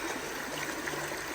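Floodwater in a creek opened up by a beaver dam rushes and gurgles steadily, a dense, even wash of flowing water close by with no voices.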